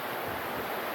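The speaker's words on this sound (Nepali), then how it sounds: "हेर्नुहोस् यहाँ पानी यसरी बगिरहेछ।" Water in a stream flowing near a natural pool above a waterfall, a steady broadband rushing wash lasting about a second, close and unbroken, with no voices.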